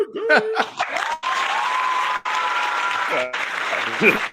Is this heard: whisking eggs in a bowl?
no